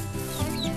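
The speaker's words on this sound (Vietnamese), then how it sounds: "một con gà mái đang chỉ cho những con gà con cách kiếm ăn" A hen softly clucking while teaching chicks to forage, low rhythmic clucks close by over a busy, noisy farmyard background.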